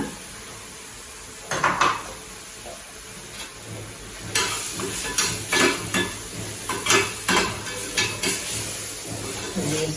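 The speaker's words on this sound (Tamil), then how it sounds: "இது கொஞ்சம் வதங்கினாதான் ஃப்ளேவர் நல்லா இருக்கும்." Masala with onions and salt sautéing in a pan for a stuffed mushroom fry, with steady sizzling and repeated clinks and scrapes of a spoon against the pan, fairly close and loud.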